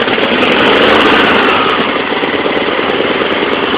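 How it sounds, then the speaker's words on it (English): A Yardman lawn mower engine, cold-started after sitting idle for months, runs steadily at full throttle, with a loud, constant, close drone and no voices. "Bump it up to full throttle."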